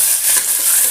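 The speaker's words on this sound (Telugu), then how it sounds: "ఇందులో ఆనియన్ లైట్ గోల్డెన్ బ్రౌన్ వచ్చేంత వరకు కుక్ చేసుకోవాలి" Onions crackle in hot oil with bay leaves, cinnamon, cardamom and cloves, a loud, close, dense sizzle lasting under a second.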